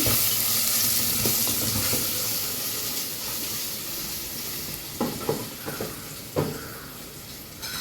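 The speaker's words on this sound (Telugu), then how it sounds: "ఆనియన్స్ వేగుతూ ఉన్నాయి" Onions frying in a pan for prawn biryani give a steady broadband sizzle with occasional stirring clatter and utensil knocks, close and continuous throughout.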